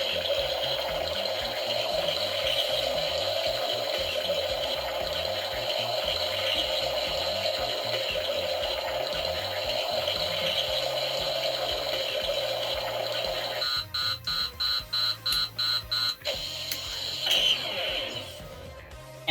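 Ghostbusters Afterlife Plasma Series Neutrona Wand toy running its slime blower effect, a steady electronic hum and whirring tone held throughout, then broken by a rapid stuttering pulse and a short rising chirp near the end, with no speech.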